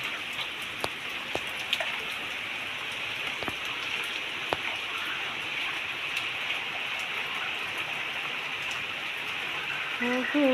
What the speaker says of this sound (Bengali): আবার বর্ষা রানীর দেখা মিলল আবার নেমেছে